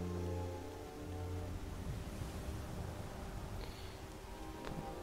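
Rain falling in the Skyrim video game, a steady soft hiss of drops under low background music and ambience, faint and continuous throughout.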